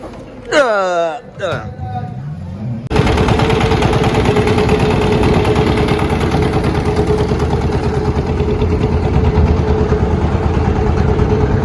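An auto-rickshaw engine runs with a steady, loud rattling drone throughout a ride to a river ghat on a Sundarban trip, following a short burst of people talking at the start.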